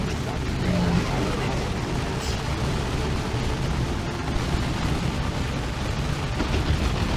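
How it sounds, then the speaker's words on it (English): Dense battle noise from a Warhammer strategy game, with focused gunfire and explosions rumbling steadily and loudly throughout, a continuous wash of booms and pops rather than distinct single shots. "Look at that focus fire."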